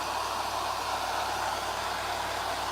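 Steady, loud whirring hiss of a hair dryer blowing on a Christmas craft project, continuous and close with no other sounds.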